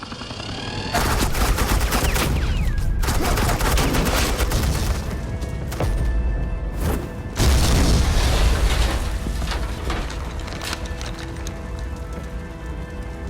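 Heavy bursts of suppressing gunfire and booming shots from the Telltale Batman video game, loud and sustained with short gaps, rattling volleys layered over a rumbling low end.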